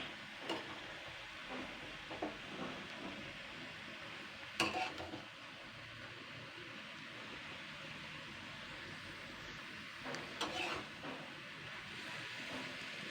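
Punarnava greens cook in a pan while being stirred, a faint low sizzle broken by occasional soft clinks and scrapes of the utensil against the pan.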